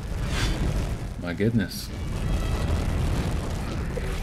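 Several explosions go off at once while a Crusader fights in Diablo 3 on PS4, dense booming bursts under game noise, with a man briefly exclaiming in the middle.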